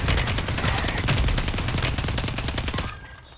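Loud automatic gunfire in a multiplayer shooter game, with a fast, steady rattle of close shots running for about three seconds before cutting off abruptly.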